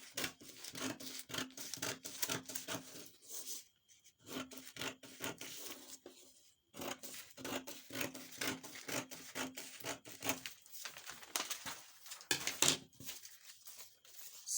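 Scissors snip through shirt collar fabric in a series of close, quiet rasping cuts, with brief pauses between strokes.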